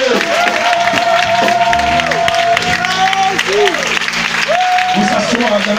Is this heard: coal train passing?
no